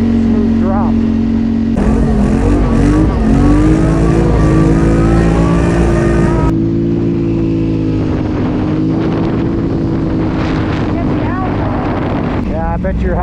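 A Polaris Sportsman 850 SP ATV engine loud and close, revving up and holding a steady droning pitch through acceleration, with wind buffeting throughout.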